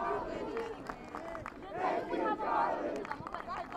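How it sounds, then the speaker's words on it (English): A crowd at a high school boys' varsity soccer tournament match cheers and shouts after a goalkeeper's save, a sustained swell of voices with rises and falls, lively babble filling the whole stretch. "And as a crowd thanks Charlie for his epic goal saving"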